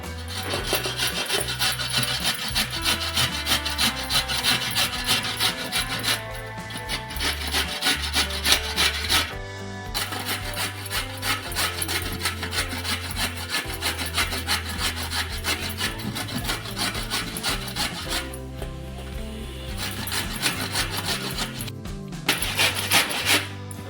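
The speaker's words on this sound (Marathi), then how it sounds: "त्या एक एक आपल्याला गाजर असा किसून घ्यायचा" Carrots rubbed one by one over a coarse grater for carrot halwa, a continuous scraping, rasping rhythm of steady strokes with brief pauses, close and fairly loud with no talking.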